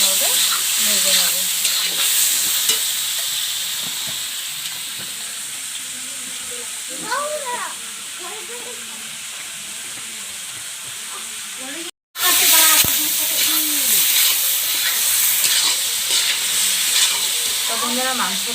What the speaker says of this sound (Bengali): এখন নুন আরও হলুদ দিয়ে কিন্তু ভালোভাবে ভেজে নেব